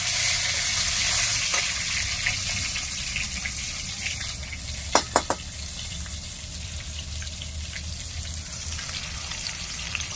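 Chopped tomatoes hiss and sizzle in hot mustard oil with bay leaf and five-spice tempering, a steady broadband frying crackle broken by a few sharp clicks midway.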